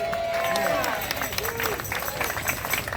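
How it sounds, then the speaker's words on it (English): A crowd at a protest rally against an MTA substation on 28th Street breaks into applause, a dense wash of clapping mixed with cheers and shouting voices, lively and close throughout. "Let's give him a round of applause."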